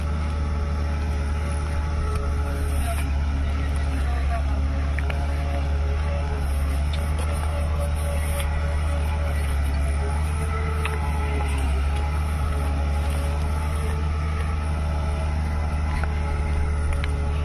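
A 150 HP six-cylinder tractor ploughs a wet field with a 13-tine plough, its engine a loud, steady, unbroken drone close by.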